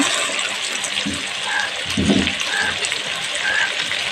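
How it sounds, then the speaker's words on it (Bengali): Water pours and splashes into a pan of potatoes being boiled for an Alu chicken curry, with a fuller gush near the middle over a steady background hiss. "হালকা জল দিয়ে ভালো করে একটু সেদ্ধ করে নেব"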